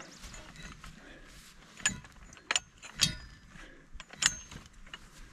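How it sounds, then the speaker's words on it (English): A jack is cranked to pull a chain link fence post from the ground, giving a series of sharp metallic ratcheting clicks and clanks at irregular intervals over a quiet outdoor background. "So when I'm cranking, the post is leaning away from me. And that's fine, because I'm going to use the jack."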